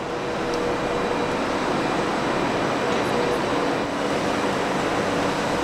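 Cabin of a cold train travelling from France to Italy, a steady, even rumble of rolling wheels and ventilation with faint tonal hums and no clear talk.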